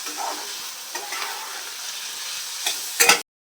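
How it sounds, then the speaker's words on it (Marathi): Garlic fries in a pan until golden, an even close sizzle broken by a few sharp clicks and a louder scrape of stirring near the end before it cuts to silence. "आता हे सोनेरी रंगापर्यंत आपण भाजून घेतो"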